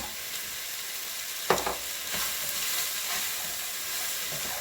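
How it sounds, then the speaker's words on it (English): Onion sizzling in a pot with roasted lamb for a lamb stew, a steady moderate hiss with a brief clatter of a utensil, no voices. "that onion that's just starting to cook off"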